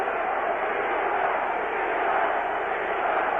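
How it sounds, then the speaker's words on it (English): A large boxing crowd at the Larry Holmes vs Mike Weaver heavyweight title fight roars and chants for the challenger, a dense, steady wall of voices filling the arena without a break. "the crowd is chanting for the challenger"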